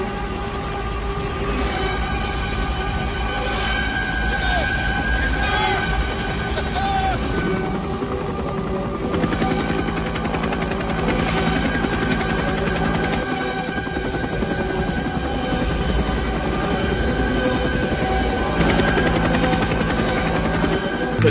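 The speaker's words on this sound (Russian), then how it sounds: "Заряжаем кулемет." Machine gun fire from a Ukrainian tactical group in combat near Andriivka, heard as loud dense bursts and rattling over a constant mechanical roar, with voices speaking over it.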